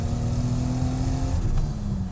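A homebuilt turbocharged BMW E30 with a big turbo accelerates, its engine note rising steadily and loud from inside the car, with a shift-like change near the end.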